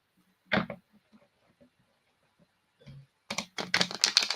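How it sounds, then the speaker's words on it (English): A brief crisp flutter of a thick tarot deck riffling together, then a pause with small taps before a louder run of rapid riffling snaps near the end. "Do you think this will riffle shuffle?"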